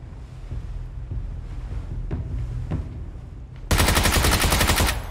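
Gunfire in a video game crackles softly at first, then erupts into a loud, dense rapid burst of automatic fire for the last second and a half, with faint background rumble earlier.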